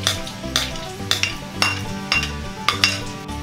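A metal utensil stirs chicken with garlic and siling labuyo chili in a pan for pinatisang manok, making close, rhythmic scrapes and clinks, about seven strokes, over a low sizzle, with no talking.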